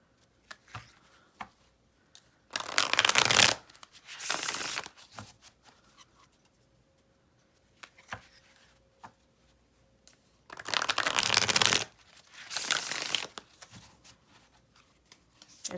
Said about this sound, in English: And then shuffling the Golden Art Nouveau Tarot